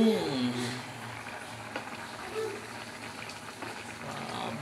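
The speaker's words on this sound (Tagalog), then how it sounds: "Gusto ko pang pakuluan pa ng konti." Mung beans boiling in a pot, a soft continuous bubbling and simmering hiss, close and fairly quiet, with a voice speaking briefly at the start.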